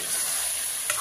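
Food in a pan is stirred, giving a brief close sizzling hiss with a single faint scrape near the end.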